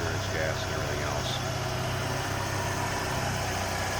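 The 2.3 liter engine of a 1993 Ford Mustang LX convertible idles with a steady, smooth low rumble throughout, close and constant.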